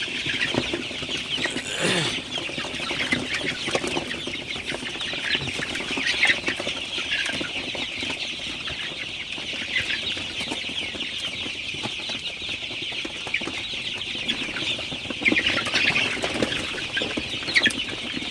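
Sonali super hybrid chickens, 36 days old, cluck and murmur together inside a poultry farm shed at night, a steady, fairly quiet flock chatter with occasional louder calls and wing movement.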